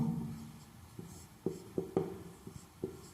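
A pen writing a geometry proof by hand, close scratching strokes with several sharp taps as letters are formed, quiet and alone.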